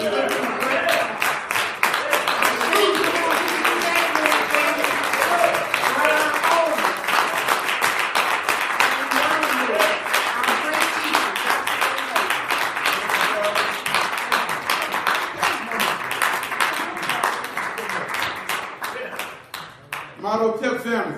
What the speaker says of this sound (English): Let's stand and give him a great applause.